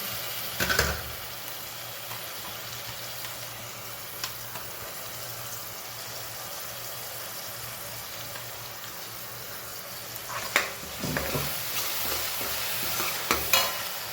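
Tomato puree being stirred into chilli paste frying in a pan, a steady soft sizzle with a few louder scraping stirs near the start and toward the end, no talking.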